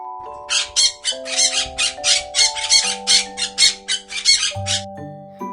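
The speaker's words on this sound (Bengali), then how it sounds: "নীলটিয়া নীলটিয়াকে ইংরেজিতে বলে ব্লু উইংসড প্যারট" A busy run of harsh, rapid blue-winged parrot squawks repeating almost nonstop, loud and close, over a steady tonal background hum.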